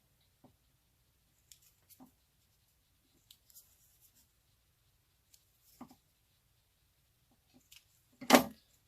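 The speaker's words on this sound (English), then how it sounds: "Taking the second or the 2-inch piece, folding it in half, doing the exact same thing." Paper from a repurposed file folder being folded in half for a junk journal: sparse, faint crinkles and soft taps, with one sharper, louder crease near the end, in an otherwise quiet room.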